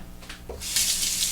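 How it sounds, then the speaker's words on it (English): Water from a tap rinsing an adjustable razor, a short close hiss of running water after a few soft handling knocks, with no talking. "Quick rinse."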